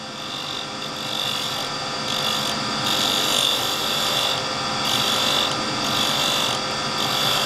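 Figured wood being turned into a chisel handle on a lathe, a steady scraping, rasping hiss of the cutting tool on the spinning blank, continuous and fairly close, with no talking.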